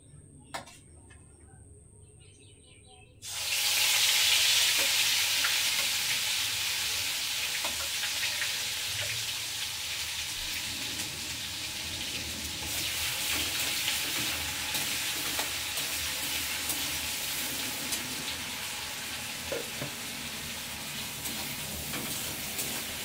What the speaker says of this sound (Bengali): এবার দিয়ে দেব বেটে রাখা পেঁয়াজ